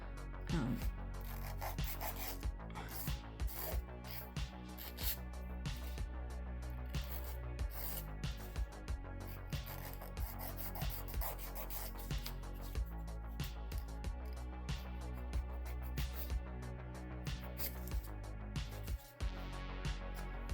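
Steady, continuous rasping of a file scraping back and forth on a hard acrylic polygel nail, close up and unbroken for a long stretch.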